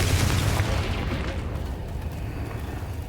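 A heavy blast from the Confringo spell in Hogwarts Legacy opens with a loud, low boom. It rumbles on and slowly fades over about three seconds, with no voices.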